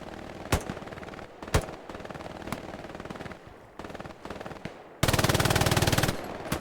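Machine gun fire in a competitive video game match on the Foy map, with scattered loud single shots followed by one long, dense automatic burst near the end.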